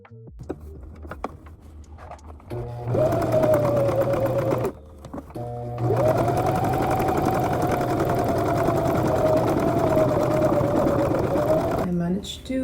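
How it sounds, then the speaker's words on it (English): A home sewing machine stitches fabric in two long motorized runs of steady whirring, close and fairly loud, separated by a short pause, with brief handling noises at the start and end. "I'm going to try to sew this here."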